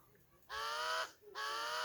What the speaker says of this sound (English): See this bird, they keep calling themselves and they now growing in number.